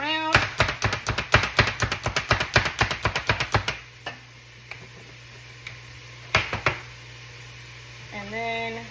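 A loud, fast manual food chopper cutting onions, a rapid run of sharp rhythmic chops for about four seconds, then a few scattered clacks and a final short burst, up close with a steady hum behind.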